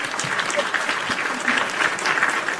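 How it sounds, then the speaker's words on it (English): Applause from a live wrestling podcast show audience, a steady dense clatter of many hands clapping throughout at moderate loudness, with a voice faintly mixed in. "Round of applause for everyone"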